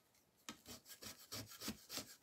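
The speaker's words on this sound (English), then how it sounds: "This is a scraper, isn't it?" A small scraper rasps repeatedly over a surface, scraping glue off a wooden rooster sign. About seven short rhythmic strokes come close but faint, and no speech is heard.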